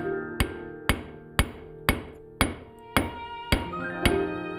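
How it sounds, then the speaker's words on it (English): A silversmith's hammer strikes silver on an anvil in a slow, steady series of nine ringing blows, each close and bright with a short metallic decay, with no voices. "moving the silver with the hammer and the anvil"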